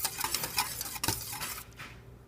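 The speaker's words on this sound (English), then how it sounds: "just whisk that into your marinade with the water mixture" Curry marinade whisked with a water mixture, a dense fast scraping swish with a clink against the bowl, stopping abruptly near the end.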